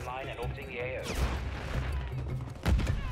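Gunfire in the shooter game Call of Duty Modern Warfare III, dense bursts of shots and impacts overlapping near, with a louder thump near the end and game sounds mixed through.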